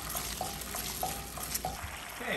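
Worcestershire sauce, hoisin sauce and sesame oil are stirred into a hot pan of pork chop sauce, a steady close sizzle broken by soft rhythmic scrapes and taps of the utensil.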